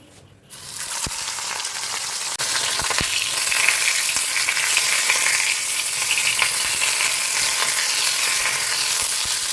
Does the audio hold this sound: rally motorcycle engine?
no